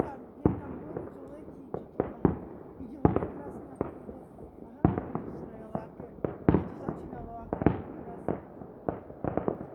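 New Year fireworks burst in a rapid, irregular series of sharp bangs and crackles, some close and loud, others farther off, with people talking in the background between explosions.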